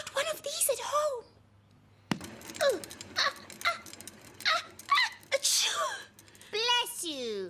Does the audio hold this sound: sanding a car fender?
no